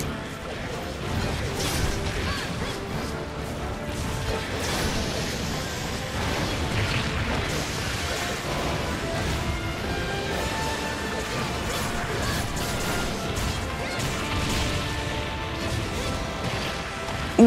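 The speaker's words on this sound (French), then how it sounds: "là je me suis pris l'explosion du sol en pleine poire" Ground explosion from the Shagaru Magala in the video game Monster Hunter XX, a dense, continuous crashing roar with loud impacts and rumble sustained throughout amid game music and effects.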